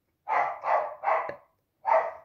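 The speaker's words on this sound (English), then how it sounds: "Sorry, that's my dog Bella." A pet dog barks indoors, with three quick loud barks followed after a short pause by a fourth, close to the microphone.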